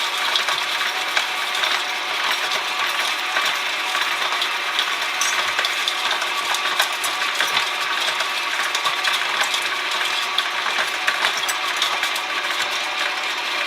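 An electric stand mixer creams hardened brown sugar for chocolate chip cookie dough, a loud, steady whirring and rattling churn that carries on unbroken and close up with no talking.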